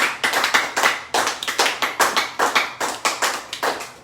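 A church congregation claps loudly and close by in a quick, regular rhythm. The bursts of applause come evenly spaced from start to finish with no talking.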